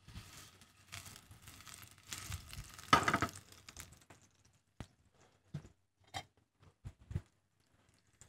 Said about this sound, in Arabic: دوروا البصل زيدوا حمروا بطريقة هذه